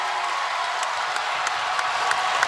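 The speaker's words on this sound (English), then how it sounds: "This crowd on their feet." A basketball crowd at a women's college game, Stanford at Washington, on its feet after a home three-pointer, roaring in a steady broad wash of cheering with scattered claps rising and falling underneath.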